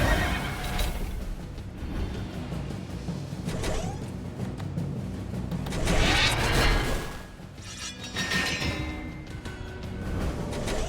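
Horse neighing in a kart-racing video game: a loud whinny that swells and fades over several seconds, joined by clip-clop hoofbeats and game effects, with no talking.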